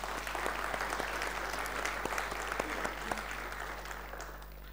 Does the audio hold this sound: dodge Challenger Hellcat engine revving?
no